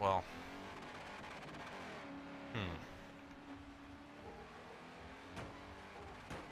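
Race cars in a GRID Autosport demolition derby growl with steady engine drone, punctuated by sharp crunching impacts and brief tire noise, all under ongoing commentary.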